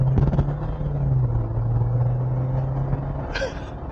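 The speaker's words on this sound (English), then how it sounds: "I like that little bit of turbo noise in the background" A 2024 Jeep Wrangler Rubicon with the 2.0 turbo Hurricane engine drives along with a steady low engine drone and road rumble heard from inside, fading near the end as a brief higher tone appears.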